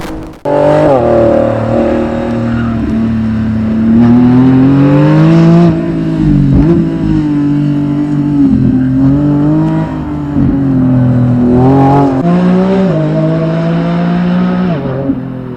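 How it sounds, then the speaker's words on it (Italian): Lamborghini Revuelto V12 engine revving loudly and close, with repeated rising and falling sweeps of pitch as the throttle is blipped and held, alone without talk. "Con questa Lambo non si può sbagliare, il suo V12 urla in maniera spettacolare"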